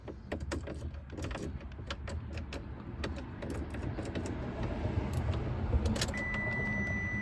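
A 1992 Daihatsu Rocky with a swapped-in ALH 1.9 TDI diesel from a Jetta cranks in chilly weather without glow plugs, then catches and settles into a steady close idle, with a brief jangle of keys early on.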